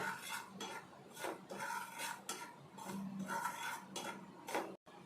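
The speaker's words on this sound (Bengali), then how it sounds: "সুজিটা একটু যাতে কাঁচা গন্ধ না করে, তার জন্য সুজিটা হালকা করে ভেজে নিতে হবে।" Dry semolina scraped and stirred on a hot tawa, giving steady gritty scraping with repeated rhythmic strokes of a utensil against the pan, close and fairly loud with no talk.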